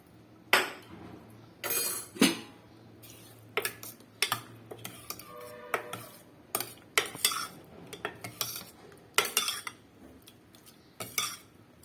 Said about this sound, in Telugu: ఇలా సాల్ట్ కూడా వేసుకొని పప్పునైతే మెదుపుకోవాలండి